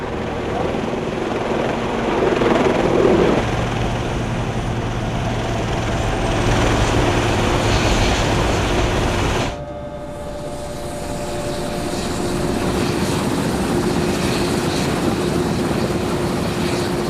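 Helicopter flying out to an offshore oil platform, a loud, steady rotor and engine drone heard from inside the cabin, continuous throughout with a brief dip partway through.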